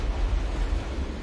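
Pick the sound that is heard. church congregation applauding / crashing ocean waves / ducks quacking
crashing ocean waves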